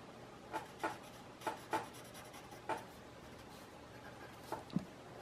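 Pencil or pen strokes scratch across paper in short separate bursts, about six quiet rubs spaced irregularly over a few seconds, close and alone with no talk.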